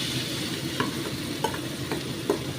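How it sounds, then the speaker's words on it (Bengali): Kohlrabi goes into spiced oil frying in a pan for a Bengali curry, producing a constant close sizzle with a few distinct stirring scrapes and clicks spaced through the clip, and no talk. "এইবার আমি ওলকপিটা দিয়ে দিচ্ছি এর মধ্যে।"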